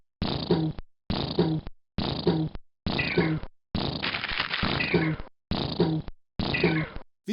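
Fart-like weapon explosion from the video game Ken's Labyrinth, fired seven times in a steady rhythm, each burst a loud, buzzy, blubbery blast of about half a second, with one longer, rougher blast near the middle.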